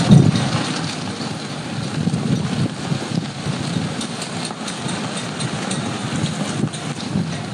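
Heavy rain during a windy thunderstorm in Punjab, a steady, dense roar of downpour with gusty rumbling underneath throughout.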